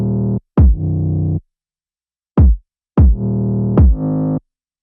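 Beat playback with a punchy kick drum and sustained 808 bass, the bass ducking under each kick from sidechain compression; several short loud bursts separated by gaps, no voice.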